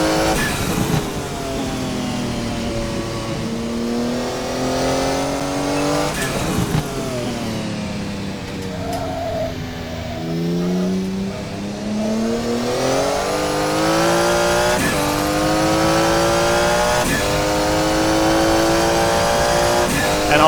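A Porsche 956 Group C race car laps the historic Jacarepagua circuit, its engine droning loud and steady with rising revs, repeated gear shifts and pitch swoops through the corners.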